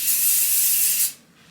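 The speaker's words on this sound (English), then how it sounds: "I'm just going to spray the bottom real quick." Hairspray sprayed in one steady, close hiss onto curled hair for about a second, then cut off abruptly.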